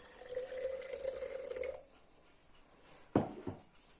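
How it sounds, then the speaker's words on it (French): Water pours steadily into a jar of rye sourdough starter foam for under two seconds, then stops. A short clatter or splash follows near the end, close and fairly quiet, with no talk. "Je mets mes 100 g d'eau"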